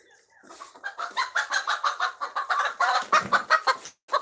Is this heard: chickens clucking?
yes